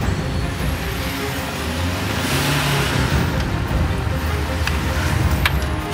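An Audi A4 that had been burned and repaired drives along under a steady, continuous road and engine rumble, with no clear braking sound standing out.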